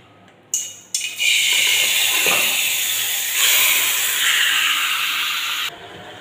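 Marinated meat dropped into a hot wok sets off a sudden loud, steady hiss after a couple of clattering thumps. The hiss holds strong for several seconds, then cuts off abruptly.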